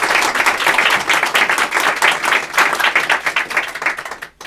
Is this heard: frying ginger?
no